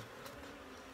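Honeybees buzz steadily around a hive feeder as the roof goes back on the hive, a dense continuous drone close by with no talk.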